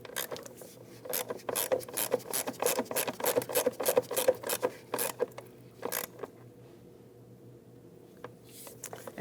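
A hand ratchet clicks rapidly as it tightens the battery hold-down bolt on a 2009-2017 Volvo XC60, giving bursts of sharp close clicks, then a few slower strokes and a pause.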